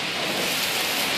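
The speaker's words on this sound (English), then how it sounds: "you'll just see a sheet of rain" Heavy rain pours down in a sheet during a thunderstorm in Queens, New York City, a dense, steady hiss close by with no pauses and no voices.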